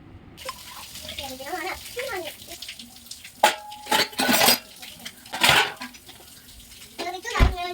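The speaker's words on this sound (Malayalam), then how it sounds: "ഞാൻ ബാക്കിയുള്ള പാത്രം കൂടെ ഒക്കെ ഒന്ന് നല്ലോണം ഒന്ന് കഴുകിയെടുക്കാം" Dishes are washed by hand under a running kitchen tap, with splashing water and repeated clatter of pots, plates and cutlery close by; voices, including a child's, speak in the background.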